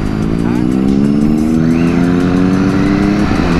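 Ducati V4 motorcycle engine droning steadily and loud during an evening group ride, its harmonic tone slowly rising with wind rush throughout.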